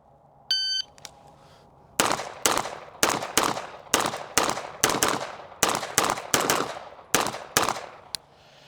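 Pistol shots fired at targets during a transition drill ring out in a rapid string of about a dozen sharp, loud reports, preceded by a brief electronic timer beep.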